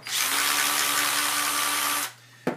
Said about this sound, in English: Once I remove that last bolt, this very easily, make some room here, this very easily will come apart.